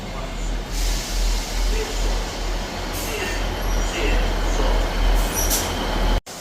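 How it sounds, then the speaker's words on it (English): A ScotRail diesel train, Class 158 units, pulls out of Edinburgh Gateway station on the 11:46 service from Edinburgh Waverley to Perth, a steady low engine rumble and rolling noise with a faint brake hiss, close by. "Departing out now is the 11:46 ScotRail service from Edinburgh Waverley to Perth."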